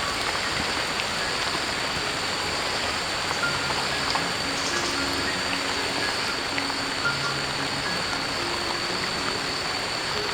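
Rain falling steadily in a village, a dense, even hiss of drops on surfaces that continues unbroken throughout.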